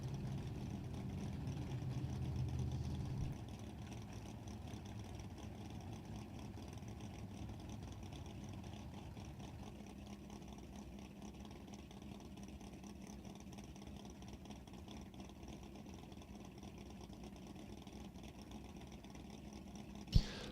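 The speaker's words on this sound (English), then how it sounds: "It's a 512 cubic inch Viper engine in the factory Superstock car." A 512 cubic inch Viper-engined factory Superstock drag car idles with a steady low rumble, moderately close and even throughout, with a brief louder burst near the start.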